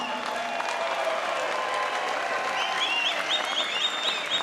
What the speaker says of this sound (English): So round of applause for both fighters, come on.